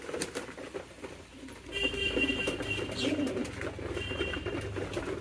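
Pigeons cooing, soft low murmuring calls from several birds nearby, mixed with light rustling and pattering in a quiet loft.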